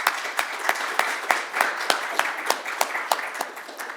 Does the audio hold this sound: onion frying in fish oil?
no